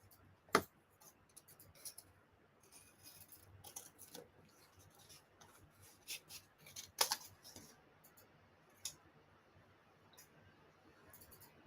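Scissors cutting paper strips for a craft flower, a few faint snips and small clicks spread sparsely across a quiet room, one or two sharper cuts standing out.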